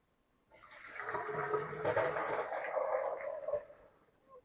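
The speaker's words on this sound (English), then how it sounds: "first thing we're going to do is drain all this water out." Cooking water poured off boiled ham hocks into a colander, a steady rushing splash that starts abruptly, runs for about three seconds and tapers off, close and fairly loud.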